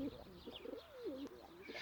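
A thick-tailed, grey-capped male pigeon in a garden gives soft, low, rolling coos in quick succession, close by and alone over faint background hush.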